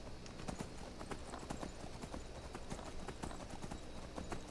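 Quiet, rhythmic clip-clop of horse hooves trotting along at a steady pace in the video game Skyrim, with a faint synthetic background ambience.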